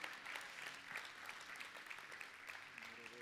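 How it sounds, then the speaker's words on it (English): A church congregation claps in sustained, dense applause that holds steady throughout, heard from a little distance and fairly quiet. "Dale un aplauso fuerte al Señor."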